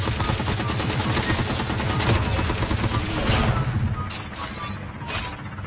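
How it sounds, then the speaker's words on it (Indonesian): Rapid gunfire in a battle royale video game, with loud dense bursts of shots and clattering impacts that thin out toward the end, heard without talk. "Ada yang nembak."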